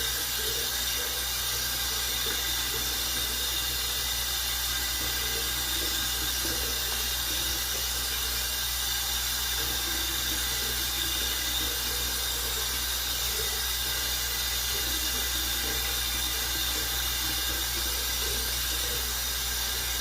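Steady broadband running water at a bathroom sink, rinsing off after a shave with a King C Gillette razor, a continuous even hiss with low hum lasting throughout, no voices.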